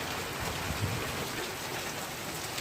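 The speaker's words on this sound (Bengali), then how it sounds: "ঘূর্ণিঝড় রেমালের প্রভাব কিন্তু শুরু হয়ে গেছে দেখুন চারিদিকে ঝড় বৃষ্টি শুরু হয়ে গেছে" Rain falls during Cyclone Remal, a steady hiss of drops spattering on surfaces nearby, fairly soft and unbroken, with no speech over it.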